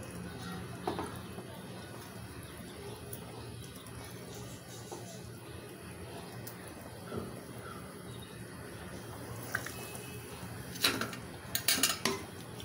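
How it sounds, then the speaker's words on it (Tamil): Sankara fish curry gets a light stir in a pot, quiet clinks and scrapes of a spoon against the metal over a soft background, with a burst of louder clatter near the end. "லேசாக கிளறி விட்டுக்கலாம்"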